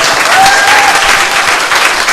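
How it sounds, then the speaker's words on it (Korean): A church congregation at an anniversary worship service applauds a pianist, a loud, close, dense burst of clapping that stays strong for its whole short span. "박수 한번 부탁드립니다."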